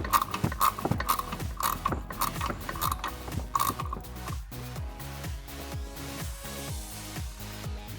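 Ratchet working loose the shock nut on a Jeep Wrangler JK 2-door during a Teraflex lift kit install, rapid metallic clicking in repeated bursts with short pauses, close and clear, no talking.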